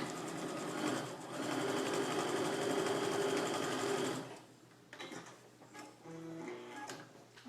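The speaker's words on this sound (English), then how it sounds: "I would put them all through the sewing machine at the same time" A sewing machine runs in a fast, steady mechanical whir for a few seconds, then stops, leaving light clicks and handling noises.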